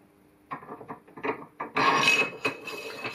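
A lock nut being threaded onto a car coilover spring perch, giving bursts of metallic rasping and ratcheting scrapes that start irregularly, then turn louder and steadier toward the end, close up with no talking.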